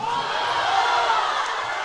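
A basketball crowd at an area playoff game between Reagan County and Seagraves shouts steadily for a walking call, a continuous loud roar of voices with no breaks across the whole stretch.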